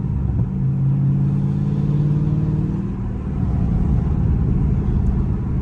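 A Dodge Charger 392 engine revs hard and close, a loud, steady low rumble with a rising tone in the first few seconds that then settles into a constant roar.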